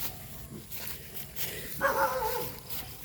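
A single short dog bark or yelp sounds near the end amid muffled background noise, fairly close.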